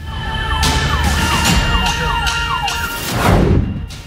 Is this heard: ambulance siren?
yes